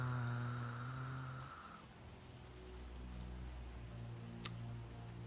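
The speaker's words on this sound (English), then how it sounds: "just listen to some nice rain, some thunder" Rain ambience in The Witcher: Enhanced Edition on PC: a soft, steady rain hiss that follows a fading musical tone, quiet and continuous with a single faint tick near the end.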